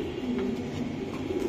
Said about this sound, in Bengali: প্রত্যেকটা রেসার কবুতর দেখবেন